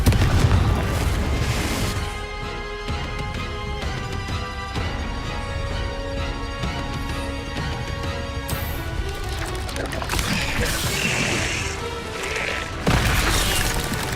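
Confringo blasting curse explosions from Hogwarts Legacy, a series of loud booming blasts and crashes layered over steady game music, with dense rumbling bursts repeating throughout and a sharp impact near the end.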